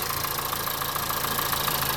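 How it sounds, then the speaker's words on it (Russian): A Honda car engine idles with a slight misfire, a steady dense running drone with a faint uneven pulsing throughout, close and continuous. "моторчик маленько стал потише, но все равно что-то есть"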